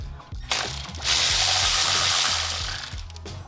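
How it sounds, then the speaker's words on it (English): Ratchet clicking close up while bolts are backed out of a Toyota Corolla XRS engine bay during a supercharger install: fast metallic clicking bursts over a loud broadband rasp, no talking. "all I'm doing here is just removing some hoses and then 5 bolts and then it'll come out"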